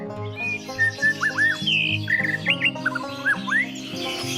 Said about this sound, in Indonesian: Burung murai batu yang dilatihnya perlu perhatian yang intensif agar dapat berkicau merdu.